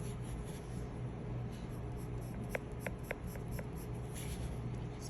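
A Crayola colored pencil scratches across paper in steady cross-hatching strokes, a soft close rasp with a few sharp clicks as the pencil taps the camera.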